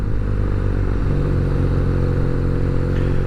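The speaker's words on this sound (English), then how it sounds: "this twin cylinder, it revs up a little bit more slowly than on your sport bike" A 2019 BMW R nine T twin-cylinder motorcycle engine runs loud and close, a steady deep throb with a slight rise in pitch partway through, alone with no voices.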